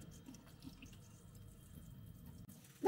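Kitchen tap water running into a sink, a soft steady trickle and splash heard faintly throughout, ending with a brief louder clatter.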